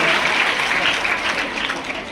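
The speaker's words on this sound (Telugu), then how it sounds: "అందరూ కూడా క్లాప్స్ కొడుతుంటే సిస్టమేటిక్గా కొడుతున్నారు" Schoolchildren at a residential school gathering clapping together in a loud, sustained, even burst of applause that fades slightly toward the end.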